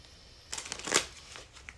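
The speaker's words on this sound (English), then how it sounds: "cut the deck." A deck of tarot reading cards being cut and shuffled close up, a quick flurry of riffling card flicks peaking in the middle, faint and alone.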